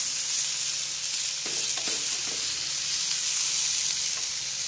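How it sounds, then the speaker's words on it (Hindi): Tomatoes stirred into fried masala in a pan for bhindi masala, a steady loud sizzle with a few scraping stirs of a spoon, no talking. "अब हम इसमें डालेंगे टमाटर। और इसे भी अच्छी तरह से इसमें मिला लेंगे।"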